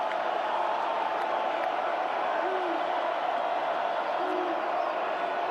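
College football stadium crowd at Texas Tech versus West Virginia roars steadily on its feet during third and long, a dense, continuous wash of cheering with no letup.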